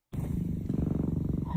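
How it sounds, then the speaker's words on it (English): A domestic cat purrs close up with a steady, rapid rumbling pulse that continues without a break, no speech over it. "Oh, he's purring."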